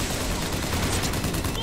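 Rapid automatic gunfire from a Bioshock Infinite shootout, a dense, continuous loud burst of shots filling the whole moment.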